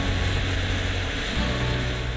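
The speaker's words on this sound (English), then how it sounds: "The pilot powers it down the runway at full throttle" A propeller plane's engine roars loud and steady at full throttle on its takeoff run down the runway, a continuous droning hum without any voices.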